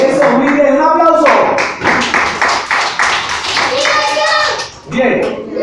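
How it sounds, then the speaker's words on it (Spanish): Young children around five years old clap together in an arts class, bursts of quick close hand claps mixed with children's voices and an adult talking over them. "Eso, muy bien, un aplauso."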